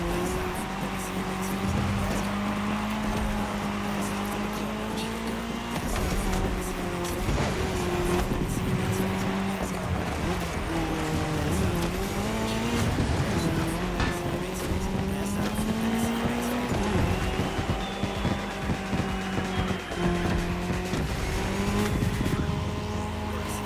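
Race cars in The Crew Motorfest running a cross-terrain race on tarmac, with engines roaring and revving steadily, pitch shifting through gear changes, and occasional tire squeal, loud and continuous.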